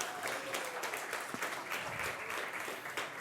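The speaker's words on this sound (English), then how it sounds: "Can I ask for a round of applause for our main sponsor?" An audience in a hall at a startup pitch competition claps for the event's sponsor, a steady round of many hands from a moderate distance, lasting the whole clip without talk.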